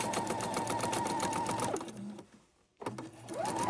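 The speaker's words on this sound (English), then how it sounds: "And we're sewing that on right now." A sewing machine stitches a border onto the bottom edge of a quilt, whirring steadily in a fast, even rhythm, then pausing briefly before starting up again, close and unaccompanied by speech.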